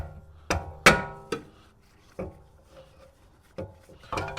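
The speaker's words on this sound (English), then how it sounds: "Hammer! Light tap with the persuading device." Sharp metallic hammer taps ring out one by one at uneven intervals, about seven strikes, driving rear brake pad pins on a 2015 BMW M235i, close and fairly loud with quiet gaps between.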